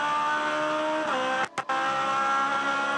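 Aussie Racing Cars at the Gold Coast race circuit, an engine holding a steady high-revving drone that drops in pitch near the middle, with two brief cuts like quick gear changes before the note climbs again; no voices.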